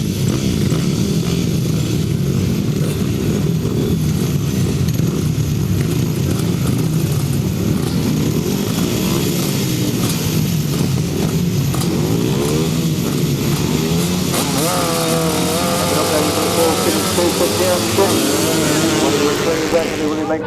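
Grasstrack motorcycles leave the start at a 2008 British Best Pairs meeting: loud, dense engine roar with rising and falling revs from several bikes that blend and sweep past, a continuous wall of sound with announcer talk over it.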